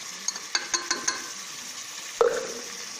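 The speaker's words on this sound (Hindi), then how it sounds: "थोड़ा भुनाई करें गोश्त की।" Mutton frying in a pan with garlic ginger paste, a few scraping stir clicks near the start over a steady sizzle, then one louder sputter burst.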